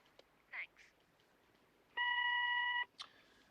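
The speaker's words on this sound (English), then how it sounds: "Please speak after you hear the beep" A single steady answering-machine beep of about one second follows brief chirpy noises, sitting clear and fairly loud on a quiet line with a small blip after it.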